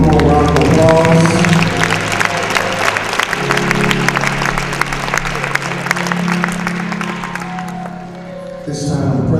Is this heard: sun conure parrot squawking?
no